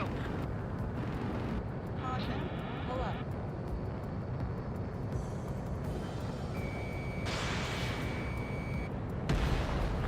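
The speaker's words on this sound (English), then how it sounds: "That was the last radar vehicle" Ace Combat 7 combat noise: a missile strike on a radar vehicle rumbles beneath a continuous jet engine roar, with a steady warning tone and a sharper impact near the end. Radio voices talk over it throughout.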